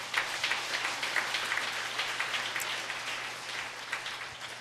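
A Korean Baptist congregation applauds God during a Wednesday sermon, a sustained wash of many hands clapping at a moderate distance, steady and unbroken, with a low background hum beneath it and no speech.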